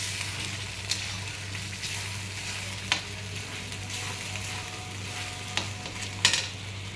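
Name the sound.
masala frying in oil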